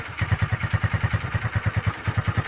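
A motorcycle engine fires up without a kick or electric start and settles into a steady, loud, close idle with an even chugging pulse and no talk over it.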